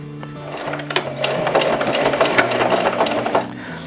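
Close, loud sewing machine running in rapid bursts as it stitches the neckseal of a Mando vest, a busy mechanical clatter with brief starts and stops.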